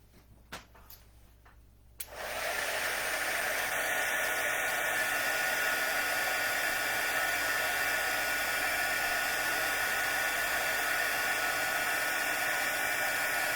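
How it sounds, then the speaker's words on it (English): A heat gun blows steadily on a handmade card, a loud continuous airy rush that starts abruptly after a brief quiet moment and holds at a constant level to the end. "Get our heat gun."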